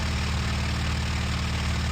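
Propeller engine of a US Navy fighter plane in the flight sim IL-2 Sturmovik 1946, a loud steady droning roar with a low throbbing pulse, heard alone without talk.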